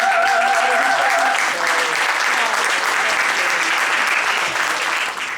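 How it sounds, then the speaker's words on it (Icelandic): Audience clapping warmly as a band is called to the stage at a spring cultural evening in Árborg, loud dense applause sustained throughout, with a brief voice or whistle early and a slight drop at the close. "Gefum við gott klapp."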